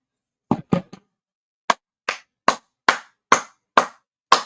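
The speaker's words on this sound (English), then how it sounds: "I get the clapping." Nine sharp hand claps, three quick ones, a pause, then six evenly spaced claps, loud and close with nothing else around them.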